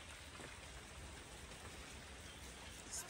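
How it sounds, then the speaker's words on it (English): Heavy rain pours steadily outside during a thunderstorm, a dense continuous hiss of drops drumming on surfaces, loud and unbroken for the whole stretch with no voices. "So guys, it's like raining,"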